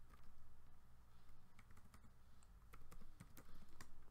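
Soft, close keystrokes patter on a computer keyboard as OpenSCAD code is typed, irregular quick taps with a few sharper clicks, all faint over a low background hum.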